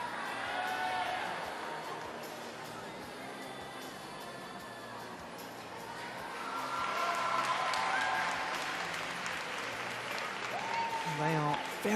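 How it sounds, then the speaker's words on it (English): Applause and cheering from a vocal crowd at a women's team final of artistic gymnastics at the 2019 Napoli Universiade, fairly loud and continuous throughout and swelling midway as the routine ends. "They are very much feeding off this rather vocal crowd, the Italians."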